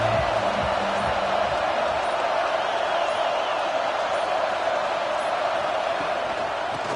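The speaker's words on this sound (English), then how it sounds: "This crowd bringing the energy and noise early." Steady, dense roar of a stadium crowd at a football game, loud and unbroken throughout with no distinct cheers standing out.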